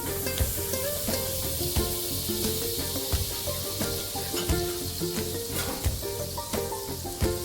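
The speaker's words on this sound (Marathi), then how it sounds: "कुकर तापवून ठेवला होता, त्याच्यामध्ये बटर टाकलेला आहे" Butter sizzles in a preheated pressure cooker on a gas stove while making pav bhaji: a steady, close, crackling fry with scattered sharper pops and utensil clicks throughout, no voices.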